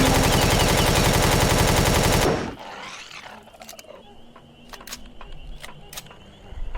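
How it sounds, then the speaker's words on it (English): Rapid automatic gunfire from shooting enemies in the Empyrion Galactic Survival video game, loud and continuous for about two seconds before cutting off abruptly into quieter scattered clicks and faint game sounds. "We're just gonna find them and shoot them."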